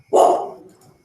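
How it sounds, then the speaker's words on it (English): A single dog bark, loud and close, bursting out sharply and trailing off into a brief tail with no other sounds around it. "Yep, that's my dog."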